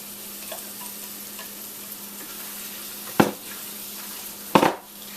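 Fresh spinach tipped into a hot pan for palak paneer, giving two short rustling bursts of leaves hitting the pan over a soft, steady sizzle.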